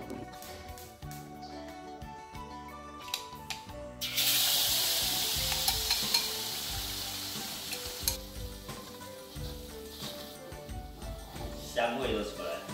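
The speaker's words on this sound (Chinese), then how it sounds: "就可以来上锅煎" Tofu fish and egg batter pancake made with flour, egg, salt, pepper and water fries in a pan, giving a loud, steady sizzle that bursts in partway through and continues under background kitchen sounds.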